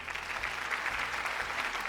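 Audience applause on a Malayalam game show, Super Bumper, a steady wash of clapping from a studio crowd that holds at an even level throughout without breaks.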